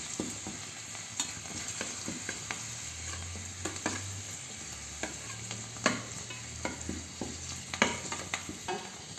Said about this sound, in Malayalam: പപ്പടം ചെറുതായിട്ട് ചൂക്കി നമുക്ക് എണ്ണയിലിട്ടിടാം